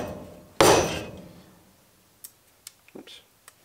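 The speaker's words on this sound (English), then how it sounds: "you drop it on the handle. So if this hammer, this head was ever coming loose, you smack it down, you see it seats it" A machinist's hammer head is smacked down once, sharply and loudly, to seat it on its handle, ringing and fading over about a second, followed by a few small scattered clicks and taps.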